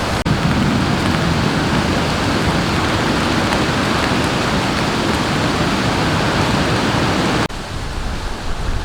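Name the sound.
rain falling at camp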